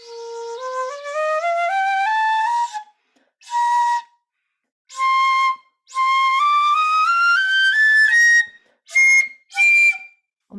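A Japanese shinobue bamboo flute plays clean, piercing high notes in several phrases, some rising in pitch, with short silent gaps between them, close and solo with no voices.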